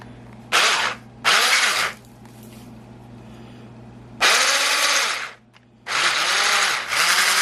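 An electric mixer whirs through butter and sugar in several loud bursts of varying length, separated by quieter gaps with a low steady hum.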